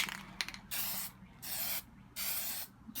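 Aerosol spray paint laid down as a second coat, with short test bursts onto cardboard: three or four distinct hissing sprays, each about half a second long, separated by brief pauses and heard up close with no talking.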